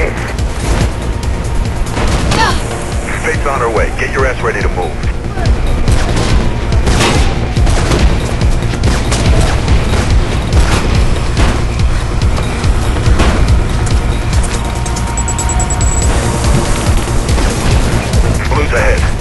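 Gunfire and booming blasts in the video game Mirror's Edge, dense and continuous under game music and effects, while voices talk over the action throughout.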